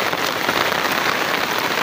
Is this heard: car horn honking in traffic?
no